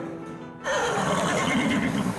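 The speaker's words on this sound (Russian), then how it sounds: "Сейчас там лошадки." Horses in a farm livestock pen let out a loud, close whinny that rises after a short quieter moment and carries on over a background of rustling and faint shuffling, with no speech.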